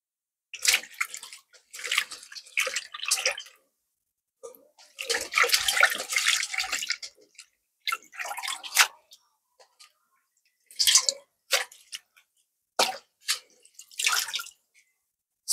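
Green onions being washed by hand in water, with splashing and rinsing coming in irregular bursts of several seconds each and quiet gaps between them.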